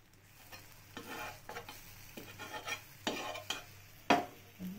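A wheat spinach egg roll fries quietly on a pan under a soft sizzle, broken by several sharp spatula scrapes and clinks nearby.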